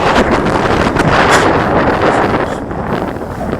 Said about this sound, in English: A little bit of breeze came up.